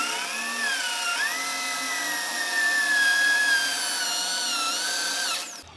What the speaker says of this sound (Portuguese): Isso aqui é um furo que eu tô fazendo só realmente um detalhe, pra ficar legal.